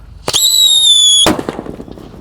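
A paper-wrapped firecracker bursts with a single loud crack, then a bright ringing whistle holds for about a second before a second sharp bang and a scatter of crackling pops fading out.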